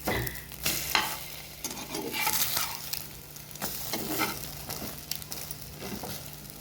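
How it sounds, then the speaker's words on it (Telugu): Food frying in a pan while being flipped and stirred, with repeated scraping and tossing bursts over a continuous sizzle, close and fairly lively, no speech. "ఒకవైపు అయితే ఫ్రై అయిపోయింది, రెండో వైపు షిఫ్ట్ చేసుకోవాలి."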